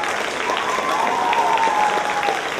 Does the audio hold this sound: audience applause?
yes